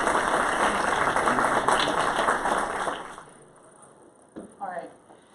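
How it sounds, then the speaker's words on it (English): Audience applause greeting a presenter at a Columbia event, a loud, dense burst of many hands clapping that carries on for about three seconds and then drops off sharply, followed by a few quieter stray sounds. "So let's give her a round of applause."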